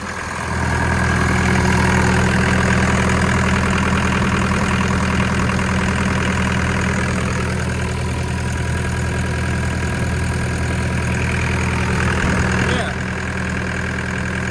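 A machine engine with a freshly resealed hydraulic pump idles steadily for several seconds, a low continuous rumble with a faint knocking texture, close by and fairly loud.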